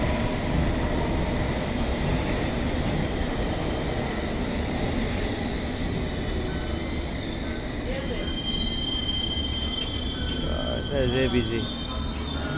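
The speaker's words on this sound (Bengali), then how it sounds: "তো আমরা ট্রেন আসছে, এখন আমরা ট্রেনে উঠে যাবো" A city-line train pulls into a station platform in Northampton, United Kingdom, with steady loud rolling rumble and high wheel squeals rising near the end, while a voice speaks briefly over it.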